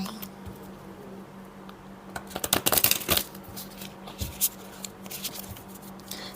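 Oracle cards being shuffled by hand, a soft papery riffle that builds into a dense flurry of card flicks midway, then settles into scattered lighter taps, close and fairly quiet with no talk.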